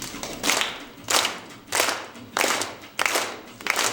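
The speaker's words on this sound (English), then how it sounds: "Clap your hands." Hand claps in a comedy routine land in a slow, regular beat, about one sharp group of claps every two-thirds of a second, close and clear with no talk over them.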